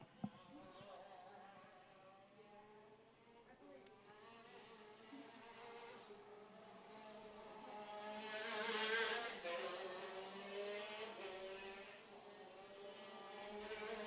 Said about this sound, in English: Sounds like a wasp or a bumblebee just flying by ever so often here in the announcer's tower